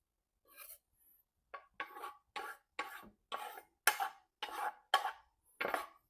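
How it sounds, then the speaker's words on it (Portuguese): A silicone spatula scrapes and stirs cake batter in a bowl, about eight short, evenly spaced strokes, close and fairly quiet, with no talking. "eu só vou dar uma misturada aqui com a espátula de silicone"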